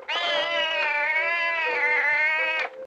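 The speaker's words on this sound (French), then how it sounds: "Ah, il y a des chats partout." A single long, drawn-out cat meow, close and loud, holding a wavering wail for nearly three seconds before stopping abruptly.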